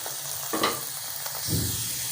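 An aloo paratha fries in Dalda ghee on a pan, giving a steady close sizzle with a couple of brief louder bursts as it shifts, and no voices.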